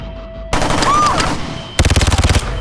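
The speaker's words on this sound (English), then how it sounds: "I gotta shoot it!" Gunfire in a movie action scene, starting with a loud sustained burst of shots and ending with a rapid, evenly spaced string of about eight sharp reports, heard alone with no talk.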